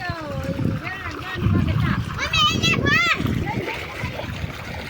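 Water from a running pump motor flows into a bed of brinjal plants outdoors, splashing and gurgling steadily while children and adults talk over it.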